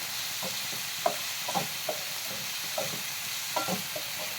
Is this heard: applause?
no